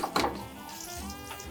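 Halloumi and broad beans frying in a hot pan, a close crackling sizzle with a sharp spit near the start and a steady bubbling hiss underneath.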